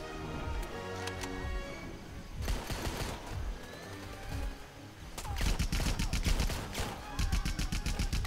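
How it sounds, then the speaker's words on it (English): Minigun fire in Rambo The Game, rapid bursts of dense automatic gunfire that come and go over several seconds, loud and mixed with other game sounds. "that's a damn minigun"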